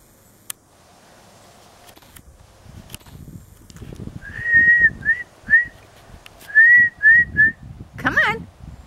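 A person whistles to call a soft coated wheaten terrier outdoors, giving short, bright whistle notes in two quick bursts of three, then a brief call of another kind at the end, over quiet rustling.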